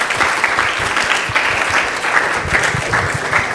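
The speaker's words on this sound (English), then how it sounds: "Please give him another round of applause," A temple audience at an ISKCON Phoenix Sunday feast gives dense, sustained applause after a class, steady and full throughout with no talking.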